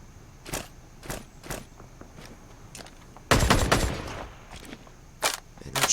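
Gunfire in Ring of Elysium comes as several sharp, separate shots spread across the scene, then a dense, louder burst of rapid fire, and one more loud crack near the end.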